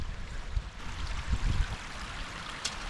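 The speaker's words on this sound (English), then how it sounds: "still see there's a lot of water coming down here." Rainwater rushes down a washed-out roadway leading to a house, a steady broadband wash of flowing water with a few low gurgles, close and continuous.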